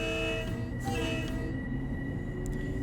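A train in Train Sim World 6 pulls away and builds speed, a steady loud rumble of wheels and motor with whining tonal hums rising slightly over a few seconds, no talk.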